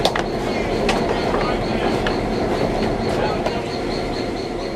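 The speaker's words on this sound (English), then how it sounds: "the train begins to roll out. Leading this train north is an ex-U.S. Army EMD model GP7" A train led by an ex-U.S. Army EMD GP7 locomotive rolls out northbound at a Civil War re-enactment, giving a steady rumbling roll with clicking wheel noise and sharp metallic squeals. Birds chirp faintly in the background.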